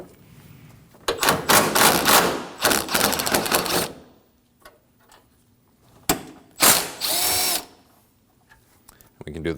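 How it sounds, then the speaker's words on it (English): A ratchet with a 10mm swivel socket backs out core support bolts on a 2016-2022 Honda during A/C condenser fan replacement: rapid, close clicking ratchet strokes in two main bursts with quieter gaps between. "We'll remove the three 10mm bolts at either end of our core support using a 10mm."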